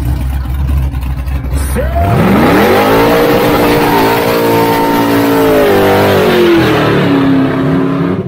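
A car revs hard and accelerates on the Interlagos circuit during a track day, the engine note climbing steadily and holding a loud, rising drone close by after a noisy idle start.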